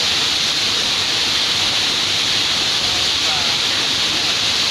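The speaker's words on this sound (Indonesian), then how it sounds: "Antrokan Waterfall." Antrokan Waterfall roars with a steady, dense rush of falling water, loud and close, filling the whole scene without a break.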